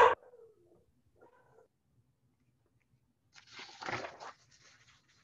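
A dog makes a brief, rough noise of about a second, fairly close. It is preceded by a few faint, scattered sounds in an otherwise quiet room.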